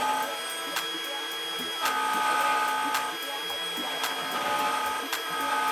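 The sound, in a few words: CNC router carving a plaque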